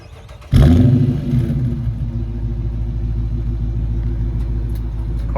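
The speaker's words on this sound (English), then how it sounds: "Car sounds good stock." A 2023 Dodge Charger R/T with its stock exhaust fires up on a warm start: a sudden loud bark and brief rev, then it settles into a deep, steady rumbling idle, close by and with no voices.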